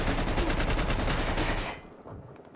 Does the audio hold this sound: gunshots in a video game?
yes